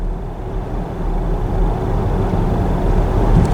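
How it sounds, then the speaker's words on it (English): Steady low tire roll and road noise inside a 2022 Skoda Enyaq iV electric car on the move, a constant muffled rumble with no engine sound and no voices. "The only thing I can hear is the tire roll, but I can barely hear the traffic."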